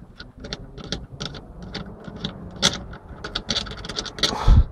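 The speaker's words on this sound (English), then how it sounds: "you take the 17 spanner and put it on the top and undo this bolt here" A 17 spanner works the fuel filter bolt on a Honda HR-V, making a rapid series of close, sharp metallic clicks and ratcheting taps with a heavier knock at the end.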